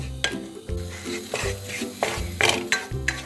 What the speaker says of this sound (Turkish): 3 kaşık unumu da tavama boşaltıyorum. Şimdi kavuracağım.